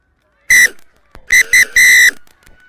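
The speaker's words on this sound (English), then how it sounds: "that is the halftime whistle" A referee's whistle at a women's rugby match blows for halftime: one short sharp blast, a pause, then two quick blasts and a long sustained one, loud and shrill with crowd noise faint beneath.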